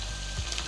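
Chicken pieces go into a hot pan for chicken mandi, giving a short, steady burst of sizzling and frying hiss with a faint scrape, close and heard on its own.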